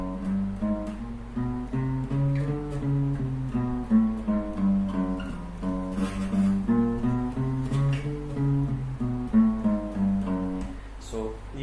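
Electric guitar running a chromatic exercise in one unbroken flow, a steady stream of single notes played at an even tempo with no pauses, close and moderately loud throughout.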